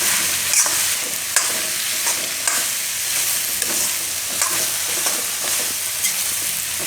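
Bottle gourd curry with coriander-cumin powder and red chilli frying in a pan, a steady sizzle broken by regular clinks of a spoon stirring, close and alone.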